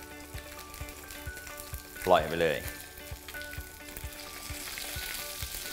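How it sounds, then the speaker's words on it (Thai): A sea bass fillet is laid skin-side down in a hot pan and bursts into a loud sizzle that settles into steady frying, while someone talks over it. "ไม่ต้องกลัวมันจะติดกระทะนะฮะเพราะว่ากระทะเราร้อนอยู่นะครับแล้วเราเอาด้านหนังแนบลงไป"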